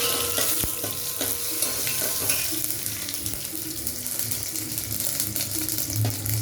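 Steady crackling sizzle of asafoetida lumps frying in hot oil, with faint scraping and clinks over the continuous hiss.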